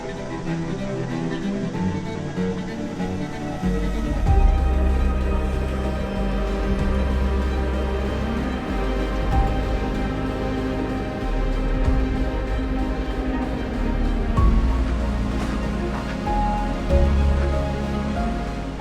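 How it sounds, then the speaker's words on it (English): Water rushes steadily at a waterfall along a spring run at Rainbow Springs, Florida, a loud continuous wash with low churning that stays close throughout. "And now it is time for our first waterfall."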